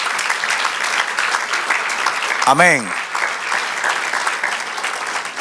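Church congregation applauding steadily and loudly throughout, a continuous wash of clapping with a voice calling out briefly in the middle.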